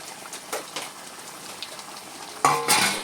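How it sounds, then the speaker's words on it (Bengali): Pieces of katla fish drop one by one into a wok of simmering spice sauce: soft sizzling and faint utensil clinks, then a louder burst of bubbling sizzle toward the end. "এরপর আমি একটি একটি করে মাছ দিয়ে দেব কড়াতে।"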